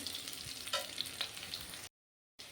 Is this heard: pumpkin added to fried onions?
yes